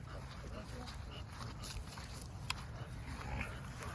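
A 13-month-old female American Bully named Raşa whimpers and yips faintly amid indoor background noise, with a soft bark-like burst near the middle and people talking nearby.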